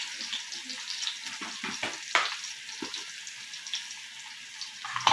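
Garlic and coriander hit hot onion-flavoured oil for Egyptian koshari sauce, giving a fairly quiet hiss with a few sharp spatters and light clinks.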